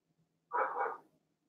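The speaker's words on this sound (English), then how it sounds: "My dogs are going nuts." A dog gives one short, muffled bark or whine-like yelp indoors in a quiet room, fairly faint and isolated, with no talking over it.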